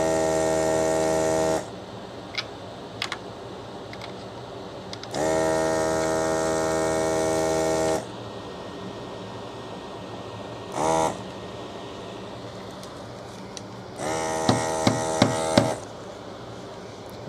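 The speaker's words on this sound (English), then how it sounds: "we're going to be using our desolder pump" An electric desoldering pump works on a Vizio TV power supply board, its motor whining in three close bursts of a few seconds each, separated by quieter stretches with faint clicks.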